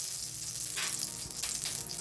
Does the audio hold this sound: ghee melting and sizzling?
yes